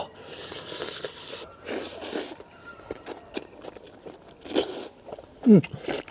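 Braised beef ribs gnawed straight off the bone alongside bites of raw garlic, close and loud, with wet chewing, tearing and crunchy bites repeating irregularly and a sharp crunch near the end.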